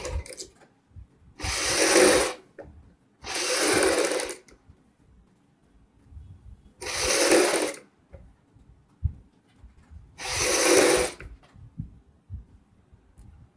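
Sewing machine running basting stitches on a kurti collar, four separate bursts of a couple of seconds each with quiet pauses between, heard up close with no talking.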